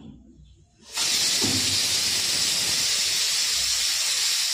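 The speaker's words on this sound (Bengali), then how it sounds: "সিটিও পড়ছে প্রেশার কুকারে" A pressure cooker vents steam through its whistle in a home kitchen: after a second of quiet room tone, a loud, steady, sharp hiss bursts out and holds unbroken to the end, close and constant.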